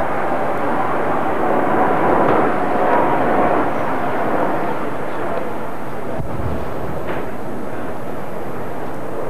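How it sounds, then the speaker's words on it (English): RAF Nimrod anti-submarine jets from Kinloss fly over an anchored fleet at a Battle of the Atlantic anniversary, a loud, steady broadband engine roar that fills the whole stretch without letting up. "Anti-submarine Nimrods from RAF Kinloss flew over."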